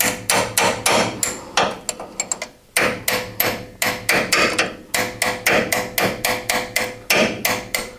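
A wrench taps repeatedly on metal, a rapid run of sharp, ringing hammer-like strikes with a brief pause near the three-second mark, loud and close with no talking.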